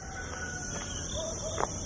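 A rooster crows at a distance over a steady background hum near Dalton, Georgia, its call short and somewhat faint.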